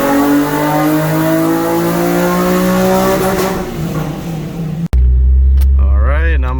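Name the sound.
car engine revving with long tube headers, stock muffler, E85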